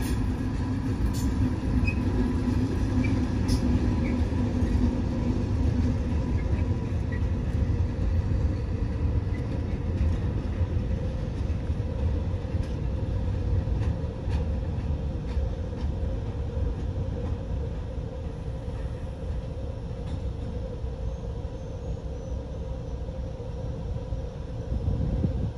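Two V180 diesel locomotives haul a short ballast train past at length in the Alpine region, deep steady engine drone and rolling wheel noise with faint metallic squeals, no voices.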